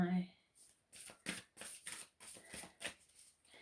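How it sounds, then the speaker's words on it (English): A deck of oracle cards is shuffled in a quiet series of soft, papery riffles and flicks, close and faint, with a brief voice at the very start. "I'm going to pull a card from my"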